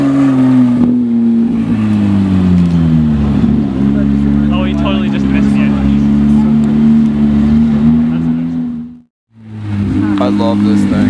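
A Bugatti Veyron engine idles loudly with a deep, steady rumble, briefly revving, then cuts out near the end before rumbling back.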